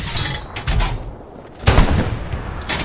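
Artillery high-explosive shells fired in the World War II shooter Hell Let Loose, El-Alamein map: heavy booming blasts, one early burst and a louder near one midway, with rumbling tails and distant thuds around them.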